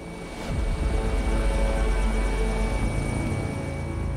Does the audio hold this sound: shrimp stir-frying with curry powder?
no